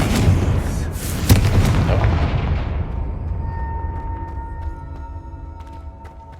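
A Confringo fire spell from the Hogwarts Legacy video game bursts in a loud, booming explosion, then its rumbling roar slowly fades over several seconds with faint ringing tones left behind.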